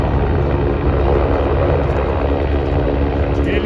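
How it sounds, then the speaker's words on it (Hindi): Helicopter droning loud and steady overhead on the trail to Kedarnath temple, a constant dense rotor and engine roar filling the whole stretch. "Helicopter helicopter."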